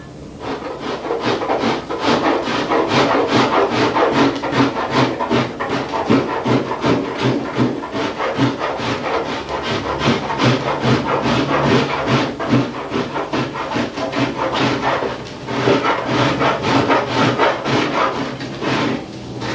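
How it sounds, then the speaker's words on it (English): A cheese grater shaping hardened auto body filler on a car panel in rapid, steady rasping strokes, loud and close, with a gritty scraping rhythm that continues for nearly twenty seconds and pauses briefly once or twice. "use a cheese grater to start forming it to where you want it"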